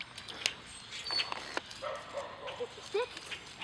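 A Chinook puppy gives a few short, faint yips and barks outdoors in a flooded back yard, sparse and uneven, with light background noise.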